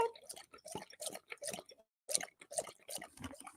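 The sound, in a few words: dog drinking water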